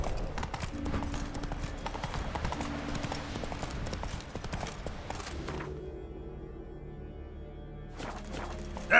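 Horse Roach's hooves clip-clop steadily at a walking pace in the Witcher 3 game world, close and continuous, with one brief break toward the end and a sharp sound at the very end.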